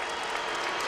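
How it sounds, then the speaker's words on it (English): Steady applause from a crowd fills a college basketball arena during a Kansas at Iowa State game, a continuous dense clatter of clapping with no voices standing out, brief and fairly loud. "And even the Jayhawk players applauding the efforts of their teammates tonight."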